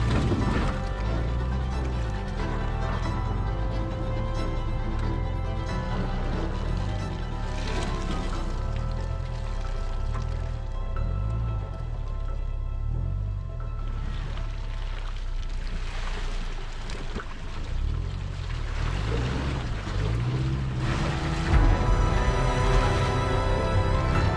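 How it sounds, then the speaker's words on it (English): A Subaru Forester crawls over a muddy ledge obstacle off-road, its engine droning steadily up close for the whole stretch, broken by knocks and thumps from the body and suspension. Nobody speaks. "with a little momentum and hugging the dry section, I hit it and popped right over"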